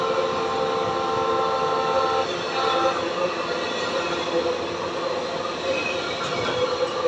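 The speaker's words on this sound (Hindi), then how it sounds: "आई थिंक हम्पी एक्सप्रेस है ये।" A Hampi Express passenger train rolls past on an Indian railway, a loud steady rumble of wheels and carriages with a faint horn and some wheel squeal, heard close throughout with a voice in the background.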